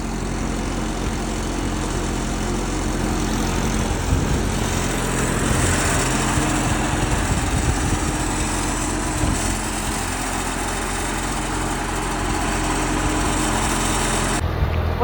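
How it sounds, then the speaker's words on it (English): A 1940s Ford 8N tractor engine idles steadily and close by, a continuous low mechanical drone with a faint high whine that holds even throughout. "It starts right up and idle. And she's idling just about perfectly right now."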